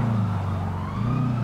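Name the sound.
siren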